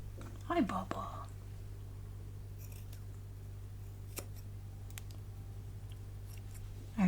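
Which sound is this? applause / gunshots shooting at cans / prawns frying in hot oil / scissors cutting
scissors cutting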